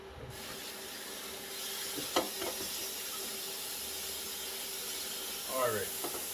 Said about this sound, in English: we're gonna rinse it out one more time